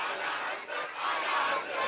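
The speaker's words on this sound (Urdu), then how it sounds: "پورا مجمع بولے نعرے تکبیر" A large crowd at Ajmer Sharif Dargah during the Urs chants the Nara-e-Takbeer slogan together, a dense roar of many voices that swells twice over a couple of seconds.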